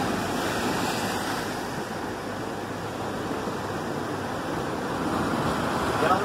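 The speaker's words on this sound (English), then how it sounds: "Listen to the waves." Ocean surf breaks below lighthouse ruins on a high coastal spot in Puerto Rico, a steady broadband wash of waves with wind noise that swells slightly toward the end.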